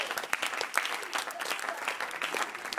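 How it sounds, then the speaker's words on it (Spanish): Applause fills a church as the congregation claps for the Lord: a lively, fairly loud wash of many hands with sharper individual claps popping out, sustained throughout. "Venga, aplauso al Señor."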